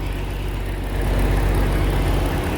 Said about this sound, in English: that sound is not from the engine, that is from that semi-truck over there.